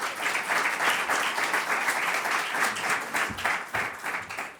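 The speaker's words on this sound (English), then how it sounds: "I hope you would be able to join me in a round of applause" A conference audience at an evening awards session applauds to welcome a moderator, sustained dense clapping from a crowd that holds steady for several seconds, then thins slightly toward the end, with no voices over it.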